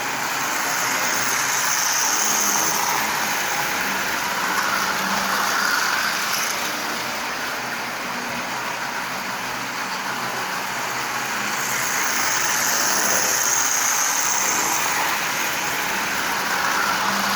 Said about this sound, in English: this locomotive is running just absolutely splendidly.